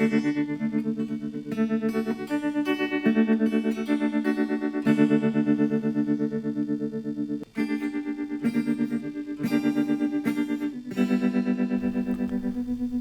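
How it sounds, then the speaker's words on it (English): An electric guitar plays chords through a tube amp's built-in tremolo, giving a pulsing, wavering modulation to each sustained strum; a few breaks in playing, loud and close, no voices. "So if we switch off this tremolo and use the tremolo on the amp, we get a different kind of modulation sound."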